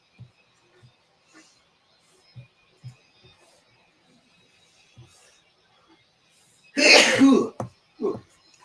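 A single sharp sneeze bursts out near the end, following scattered soft taps and quiet sounds, with a brief voiced noise just after.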